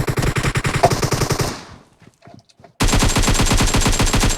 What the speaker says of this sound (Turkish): Biri sıkıyor bana.